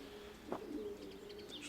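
A pigeon nesting on eggs gives a soft, low, brief coo, faint and close against a quiet background with a few light chirps after it.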